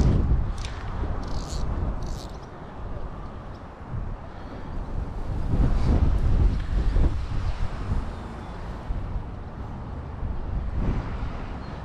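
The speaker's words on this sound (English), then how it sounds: "It's pretty windy out here" Steady wind buffets a GoPro Hero 9 Black microphone fitted with a Rycote Micro Windjammer, a low rumbling roar that swells and eases in gusts, with faint outdoor sounds behind it.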